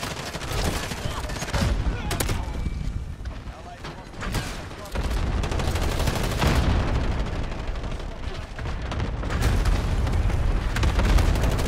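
Shotgun blasts from a Call of Duty match on the Shipment map, loud booming shots repeating throughout amid dense game noise, with voices talking over the action.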